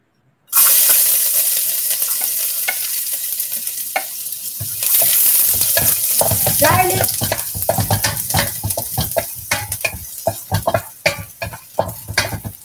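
Chicken hits a hot pan with black raspberry wine and erupts into a loud, close sizzle, steady frying hiss carrying on under repeated scraping and stirring clatter that grows choppier toward the end.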